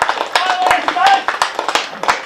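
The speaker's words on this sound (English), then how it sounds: "applause was greeting, I think, the announcement over the loudspeaker" A county cricket crowd at Essex against Northamptonshire claps after a loudspeaker announcement: sparse, scattered applause of fairly close individual claps with a voice audible faintly underneath.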